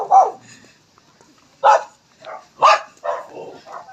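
Dogs bark in short separate bursts, about five or six yips and woofs spaced across a few seconds, fairly close on a street walk.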